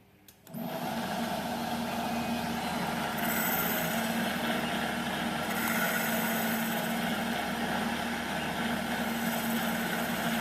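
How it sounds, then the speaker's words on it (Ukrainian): A CNC lathe turns the outside of a giant pulley, starting up abruptly and then holding a loud, steady machine whine and hum with a sustained cutting hiss, with no one talking. "будемо точити велетенський шкіф з зовнішньої сторони"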